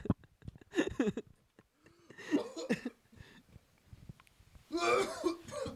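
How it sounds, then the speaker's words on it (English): A person coughing and clearing their throat, a few rough, raspy hacking bursts spaced across the moment, close and fairly quiet, with no talk over them. "you coughing like a 45-year-old"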